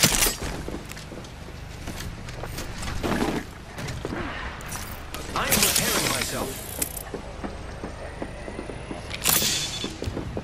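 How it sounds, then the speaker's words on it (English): Weapon reload in Apex Legends: a run of close mechanical clicks, ratcheting slides and metallic clacks spread over several seconds amid faint game ambience, with a couple of louder snaps. "Reloading."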